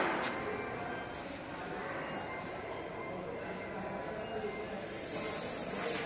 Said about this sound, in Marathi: बघा ही गॅस आहे पाईपमध्ये असलेली, होस पाईपमध्ये असलेली गॅस आपण बाहेर काढून घेऊ.